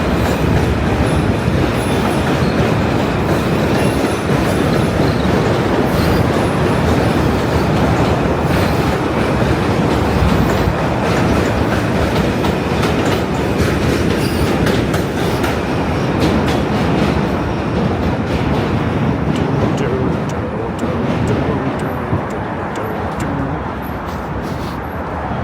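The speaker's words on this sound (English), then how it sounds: "That's the J train." A New York City J subway train rumbles past on an elevated bridge, a loud continuous roar of wheels and rail with clattering and faint squeals, steady throughout and easing slightly near the end.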